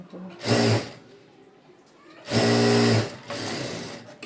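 Sewing machine stitching a puff sleeve onto a bodice piece, with two loud, steady motor-and-needle bursts of about half a second each, separated by quieter handling noise and followed by a softer, lingering hum.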